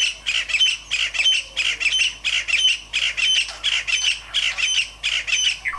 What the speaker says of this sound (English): I was awoken by this beautiful bird call.